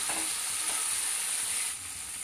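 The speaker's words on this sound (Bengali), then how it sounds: "এবার আলুটা দিয়েও কিন্তু মশলার সাথে 5 মিনিট মতো খুব সুন্দরভাবে কষিয়ে নিতে হবে" Fried potatoes with spices sautéing in a pan over medium gas heat, a steady bright sizzle of hot oil that carries on without break.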